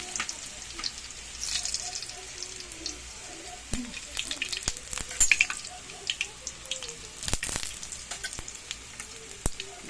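Garlic sizzles and crackles in a pan for Filipino pork adobo, irregular popping spatters over a soft steady frying hiss, close and moderately loud, with a voice briefly audible.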